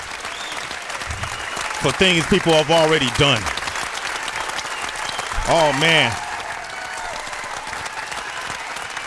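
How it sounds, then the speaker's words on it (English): Audience applause in a studio interview setting, rising and falling beneath two stretches of close conversational speech and fading to a steady, moderate wash of clapping. "Sometimes you gotta let the applause run"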